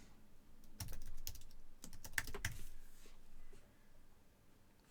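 A computer keyboard clatters with quick, close keystrokes while typing into a WordPress website form, in two short bursts with a pause between them and no talking.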